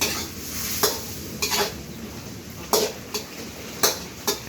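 A spatula scrapes and stirs through a sizzling pan of Thai holy basil stir-fry with crispy pork, giving a steady frying hiss with several sharp, close clatters of utensil against the pan at uneven intervals.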